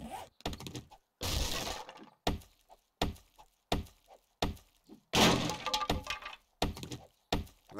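In the survival game 7 Days to Die, a scrap object is broken apart with a run of sharp cracking, shattering hits in quick bursts. Some strikes are longer and crunchier, and there are brief gaps between them.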